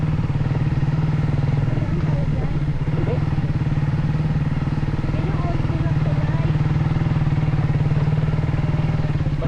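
A motorcycle engine drones loudly and steadily up close, with a rumbling low hum and occasional clatter, as if riding along.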